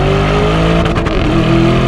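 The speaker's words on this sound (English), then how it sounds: "It's bouncing off the limiter." Lamborghini Urus engine in manual shift mode, revving hard and bouncing off the rev limiter, loud and close with a stuttering cut in the roar near the middle before it pulls on, no talking.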